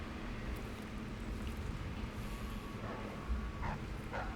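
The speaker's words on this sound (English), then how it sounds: "There's dogs on this side, though." Dogs bark in Dishonored 2, a few short, somewhat distant yips and barks over a low, rumbling game ambience.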